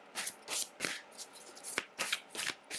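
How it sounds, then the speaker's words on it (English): Oracle cards from a shaman's dream deck being shuffled and drawn, giving a string of crisp riffling bursts at close range with brief pauses between them and no talking. "Now, I'm also going to draw a card from my shaman's"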